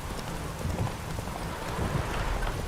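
Steady rain in The Witcher 3, a dense even patter of drops with soft low rumble underneath, continuous and fairly quiet, no voices.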